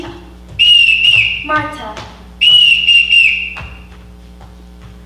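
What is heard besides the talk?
whistle signals calling children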